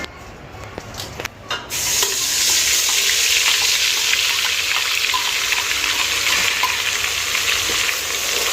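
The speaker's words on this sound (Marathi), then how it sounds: "आता मी तेल टाकलेलं आहे आणि तो वाटलेला मसाला त्याच्यात तेल सुटतो तो परतून घेणार आहे" Ground masala sautés in hot oil over a wood-fired stove, a loud, continuous hissing sizzle close by, opened by a few quick clatters of utensils before the sizzle settles in and holds steady.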